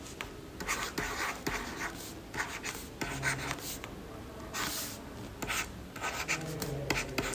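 Chalk or marker strokes scratch and rub across a board in a maths lecture on trigonometric equations, coming in short bursts with pauses between them, fairly close and steady, with no speech over them.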